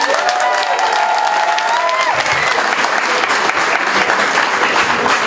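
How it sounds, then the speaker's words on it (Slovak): Dense, loud applause from a crowd at a Slovak folk costume dance in Senica, welcoming a cimbalom band, a continuous clatter of many hands with a brief whistle-like tone early on. "S veľkým potleskom prosím privítajte našu hudobnú stálicu Miansku Cimbálovku."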